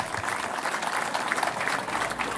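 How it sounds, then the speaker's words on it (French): A crowd at a village ceremony in Zaguina applauds for Madame Dambélé Sali, a steady dense patter of many hands clapping at moderate distance, with faint voices mixed underneath. "que je demande d'acclamer très fort"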